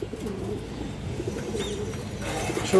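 Pigeons cooing in a loft of old-breed fancy pigeons, including a large, lively white bird and a silver female, with low, continuous throaty coos layered close by and a brief sharper sound at the end.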